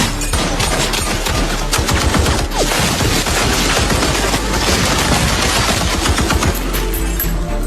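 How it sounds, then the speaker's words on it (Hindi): Dense, sustained automatic gunfire rattles continuously with loud overlapping bursts, close and unbroken from start to finish. "जैसे ही बाहर की गोलियों की आवाज अचानक रुक गई,"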